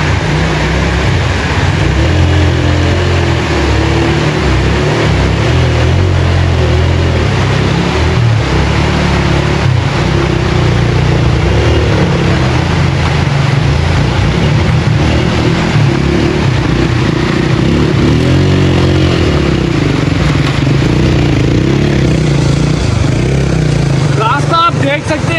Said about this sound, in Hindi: अब यहाँ से बाइक निकालते हैं।